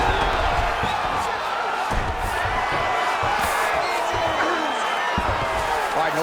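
An arena crowd in the EA Sports UFC 5 video game roars and cheers steadily throughout a Du Plessis vs. Khabib Nurmagomedov fight, a dense, constant wash of noise beneath voices.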